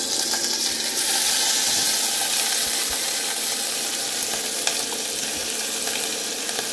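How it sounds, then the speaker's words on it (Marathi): Ground masala paste sizzles and crackles loudly in hot oil with cumin seeds, a tempering for Maharashtrian katachi amti, giving a continuous close frying hiss with occasional pops. "कटाच्या आमटीला फोडणी देते"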